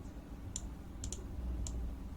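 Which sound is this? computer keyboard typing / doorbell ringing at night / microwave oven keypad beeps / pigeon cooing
computer keyboard typing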